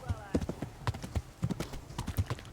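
Steady clip-clop of a horse's hooves while riding in the medieval game Kingdom Come: Deliverance, a brisk rhythmic gait of close, clear footfalls with a brief whinny at the start.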